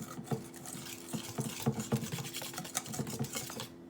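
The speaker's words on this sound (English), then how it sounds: "And then I'm going to stir that in as well." Ingredients are stirred by hand into a wet cloud bread mixture, giving a soft, steady scraping and tapping in a continuous rhythm, close and quiet, without speech.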